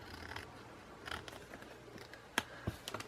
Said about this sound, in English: just use an old scissors for that